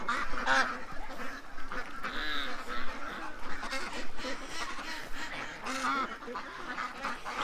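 Geese and Muscovy ducks at a feeding spot give a steady, close chorus of overlapping quacks and honks, with scattered louder calls throughout.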